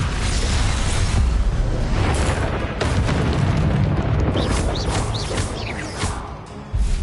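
A Confringo blasting spell explodes in a wizard video game, booming loudly and repeatedly over a dense, continuous roar of effects, with brief crackling bursts near the end.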